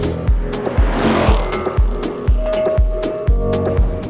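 A 2021 Ford Bronco EcoBoost with an MRT Trail Rated axle-back exhaust rumbles in a deep, pulsing rhythm, with about nine evenly spaced low throbs and sharp ticking clicks over the top, loud and close.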